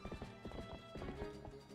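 Horse in Twilight Princess HD, galloping with rapid, steady hoofbeats over game music, with a faint whinny; the sound is fairly quiet and continuous.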